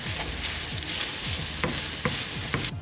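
Fried rice stir-frying in two pans at once, a constant loud sizzle with periodic scraping strokes and sharp clinks of a utensil against the pan, close up and with no talking.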